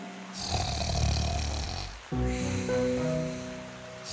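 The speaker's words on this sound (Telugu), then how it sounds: "ఎంత గట్టిగా గురక పెడుతోందంటే చెట్టు ఆకులు కూడా కదులుతున్నాయి." A wolf snores loudly in an animated children's story, with deep rasping snore bursts rising and falling across the clip, set among music and sound-effect layers.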